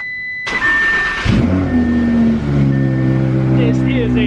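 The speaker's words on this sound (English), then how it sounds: "let's get a cold start so we could get this thing kind of moved over" Audi R8 engine cold-starting: a starter whir, then the engine catches and settles into a loud, steady high idle, heard up close without voices.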